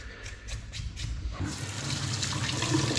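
Tap water gushes steadily into a sink while pork is rinsed for making blood sausage, the splashing flow rising and staying constant after a few light knocks.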